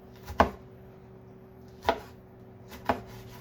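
Vegetables for homemade salsa being finely chopped with a knife on a board, three sharp separate chops spaced about a second apart, close and clear in a quiet room.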